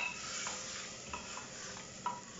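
Vegetables are stir-fried in a pan with a faint, continuous sizzle and a few light scrapes of stirring, heard at low volume with no voices.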